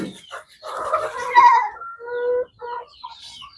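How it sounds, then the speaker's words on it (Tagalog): Chickens on a backyard farm cluck and squawk in a busy, overlapping run of calls, close and fairly loud, with a few shorter clucks trailing off at the end. "Ito yung pinakamaingay. Yung manok ko"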